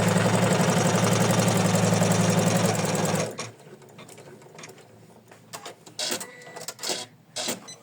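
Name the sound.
embroidery machine stitching placement line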